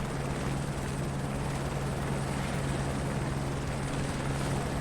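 A helicopter engine in Microsoft Flight Simulator 2024 drones steadily with a low rotor hum and a thin high whine, constant and unbroken, with no talk over it.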